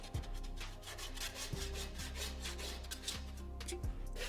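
Scraping and cleaning out a drywall corner around a window: steady close rubbing and rasping strokes of a tool against the wall, continuous with a few sharper knocks, no talking.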